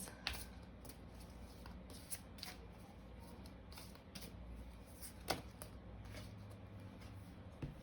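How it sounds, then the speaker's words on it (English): Tarot cards shuffled by hand in a quiet room, a soft continuous riffling with a few sharper flicks and taps, close and fairly faint with no talking. "Just gonna shuffle a few more times."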